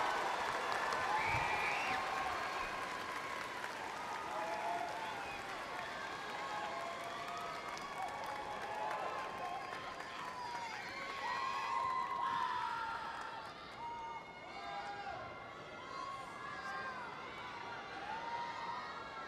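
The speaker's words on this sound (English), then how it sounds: "Let's give a big round of applause to the class of 2017" Sustained applause and cheering from a crowd at the 2017 graduation of Trinidad "Trini" Garza Early College High School, dense clapping with scattered shouts and whoops, steady and fairly distant throughout, easing slightly near the end.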